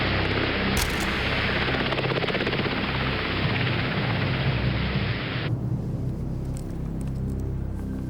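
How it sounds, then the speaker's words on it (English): A loud, steady helicopter roar with a deep rotor rumble fills the whole clip as it takes off. Its upper hiss drops away partway through while the low throbbing continues. "the helicopter takes them to Andrews Air Force Base"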